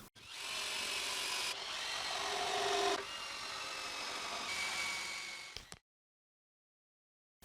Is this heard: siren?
no